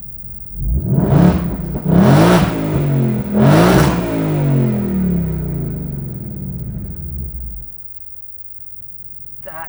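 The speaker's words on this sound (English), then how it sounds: "This is a factory exhaust with baffles built into it." A 700 HP 2020 Mustang GT on its factory baffled exhaust in track mode revs hard three times, each loud, deep blip decaying into a rumbling idle that fades toward silence.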